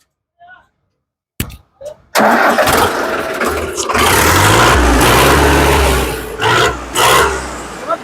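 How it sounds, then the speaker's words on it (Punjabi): A tractor engine cranks a few times after a short silence, then catches and settles into a loud, steady diesel rumble with a couple of brief revs. "ਬਈ ਮੇਰਾ ਸਟਾਰਟ ਕਰੀ ਟਰੈਕਟਰ"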